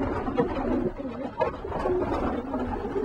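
Soft, continuous low cooing from a racing pigeon, with burbling calls that rise and fall over a dense, close background of further bird murmuring.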